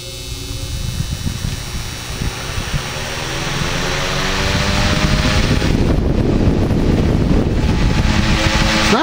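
A Polar Cub electric fan runs with its oscillator gear engaged, a loud, steady motor whir and airy rush that builds and holds, with a faint buzzing hum throughout.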